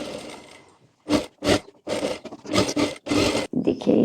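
A sewing machine stitches lining onto a baby girl's designer party-wear frock, running in several short, fairly loud bursts separated by brief pauses.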